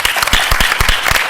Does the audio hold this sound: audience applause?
yes